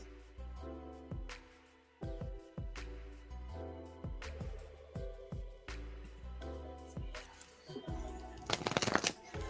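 Tarot cards being shuffled by hand in a mini reading, a run of crisp riffling bursts and soft slaps repeating every second or so, close and clear, with no one talking.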